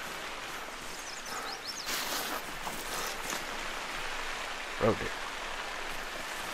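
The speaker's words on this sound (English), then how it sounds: "This rain is so loud." Heavy rain falls steadily in The Hunter: Call of the Wild, a loud, even hiss filling the scene while someone talks over it and a brief sharp sound cuts through midway.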